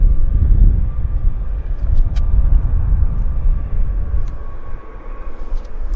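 A Bombardier Q400 airliner arriving at Vancouver airport, heard as a loud, steady low engine rumble with some wind buffeting that eases slightly toward the end.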